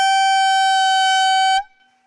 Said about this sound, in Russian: Вот буквально секунду на секунду раздастся гудок, и рыбалка будет закончена.